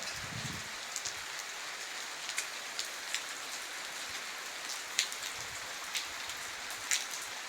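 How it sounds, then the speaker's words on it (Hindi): Heavy rain pours down steadily in a cold, foggy hill village, a dense even hiss punctuated by scattered sharper drip ticks, heard without any talking. "इतनी तेज़ बारिश हो रही है कि क्या बताऊं, भयंकर वाली बारिश हो रही है"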